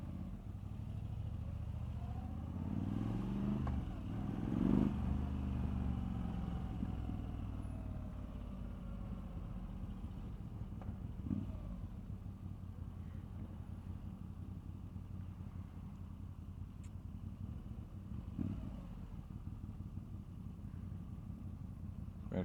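Motorcycles, including a Moto Guzzi V85TT, pass along a road-racing course at the NW200 with a steady low engine rumble throughout and a louder surge around five seconds as a bike goes by, plus fainter passes later.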